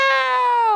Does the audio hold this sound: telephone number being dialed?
no